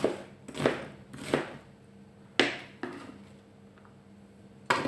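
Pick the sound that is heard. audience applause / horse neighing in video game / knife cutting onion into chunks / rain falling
knife cutting onion into chunks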